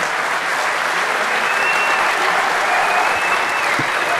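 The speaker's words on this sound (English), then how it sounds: "Let's hear a round of applause." A large crowd at the DEFCON 20 hacker convention closing ceremony applauds loudly and steadily, a dense, even wash of clapping that holds without a break.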